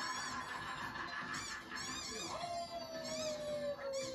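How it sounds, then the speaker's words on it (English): Ducks in the video game Luigi's Night at Freddy's give repeated nasal, honking quacks in quick bursts, fairly loud over game sounds, with a rising tone near the end. "Bonus ducks!"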